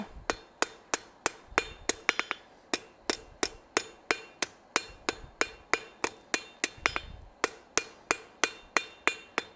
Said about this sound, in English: And now back to planishing that out.